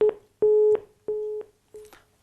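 A telephone busy tone after a call is cut off: four steady, evenly spaced beeps, clear and alone on a quiet line, the last one partly broken up.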